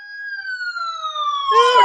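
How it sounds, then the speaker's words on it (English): A single siren sound effect wails in one long, slowly falling tone, fairly loud and close, then breaks into a brief burst of noisy, clattering sound at the end. "We could be hearing a sirens blaring"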